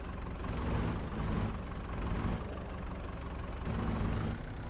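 A tractor engine in Farming Simulator 22 drones steadily, a low mid-pitched rumble that swells slightly in places, heard alone without talk while handling silage bales in winter.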